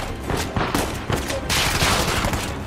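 Gunfire in the video game Uncharted 4: A Thief's End, dense bursts of rapid shots and fusillades with loud crackling impacts, over a busy combat background.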